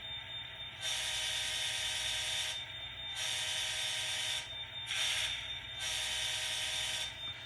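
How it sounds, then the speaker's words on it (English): An Atlas N scale GP60 model locomotive's sound decoder plays a Conrail-style multi-chime horn in several blasts of varying length, steady and fairly faint over a low background hum. "It's more like a Conrail horn."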